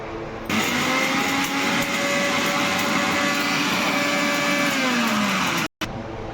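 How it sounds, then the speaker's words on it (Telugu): An electric mixer grinder whirs through roasted spices for Telangana-style stuffed eggplant curry, a loud steady whine for about five seconds before it cuts off abruptly. "దీన్ని మిక్సీ పట్టేస్తే"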